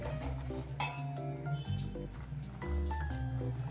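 A spoon clinks and scrapes against a pan while cashew chicken curry paste is stirred, giving a few light metallic knocks and rubs over a tonal background hum.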